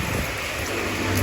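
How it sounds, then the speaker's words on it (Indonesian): Steady rain pouring outdoors near a ticket booth at a scenic cool spot, a dense even hiss with no talking over it. "Ini masih dalam suasana hujan ya."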